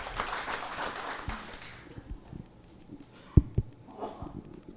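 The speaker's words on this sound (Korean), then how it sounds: "박수로 환영해 주시면 고맙겠습니다." An audience at a Jeju pig-farming forum panel session applauds a speaker in a brief, moderately loud burst that fades within about two seconds, leaving room noise and a few faint knocks.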